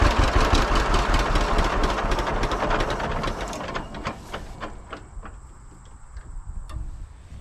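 A John Deere tractor engine runs close by with a steady mechanical knock and ticking rhythm, loud at first and then settling into a quieter idle.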